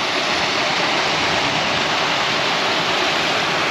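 Water pours steadily over a beaver dam near Ushuaia, a loud, continuous rushing wash like a small waterfall, with no voices.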